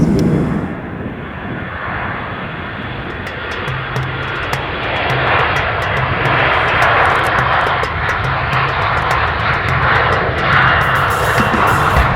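An airplane departing gives off a loud, continuous engine roar close by, swelling slightly and holding steady throughout with no talk over it.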